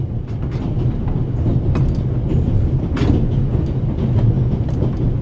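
Inside a train carriage in a video game, a loud, steady low rumble rolls on throughout, with faint clacks and rattles now and then.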